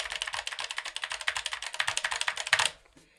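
Rapid, even keystrokes on a Keychron K3 mechanical keyboard, a steady close-up clatter of about two dozen crisp clicks that stops abruptly near the end, with no talk.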